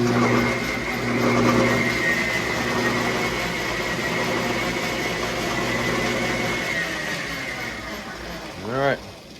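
A Logan lathe fitted with a new 4 jaw chuck runs with a steady motor hum and tonal whine, close and even, before winding down with a falling pitch near the end.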